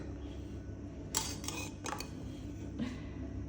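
Dishes and cutlery clink while rice is served for a Kerala-style lunch, with a few sharp metallic clatters in quick succession over a quiet room.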